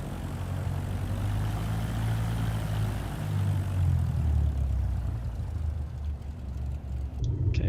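A propeller plane engine in Microsoft Flight Simulator 2024 drones loud and steady with a low throbbing hum, shifting slightly in pitch.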